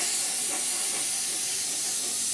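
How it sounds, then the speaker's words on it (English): Steady, close airbrush or spray hiss runs without a break as paint coats the inside of a Revell 1/72 Transall model kit fuselage. "I'm going to spray the entire inside of the fuselage section"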